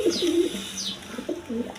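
Domestic pigeons kept for sale give a few soft, close coos in quick succession, with no talking.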